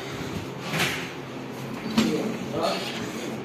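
A hotel room door in Qatar is pushed shut, producing a couple of soft knocks and a latch click amid a person's talking.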